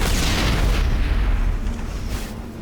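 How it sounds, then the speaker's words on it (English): Heavy cannon fire from the Mako vehicle in the Mass Effect video game, a loud booming blast with a rumbling tail that decays, then a second brief burst near the end. "I have a freaking cannon."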